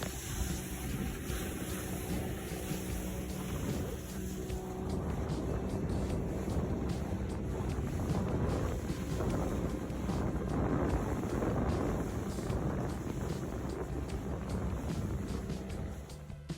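A boat cruises along the New Zealand coastline at Coromandel, its steady engine rumble and water rush carrying on without a break, with heavy wind buffeting the microphone.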